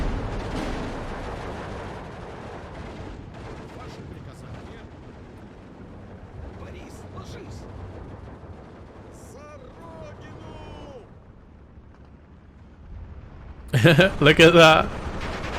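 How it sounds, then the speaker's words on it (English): Soviet ML-20 howitzers firing in the WW2 strategy game Steel Division 2, a burst of heavy booming artillery shots near the end, loud over a low rumbling battle ambience while someone talks throughout. "All my ML20s are firing at them."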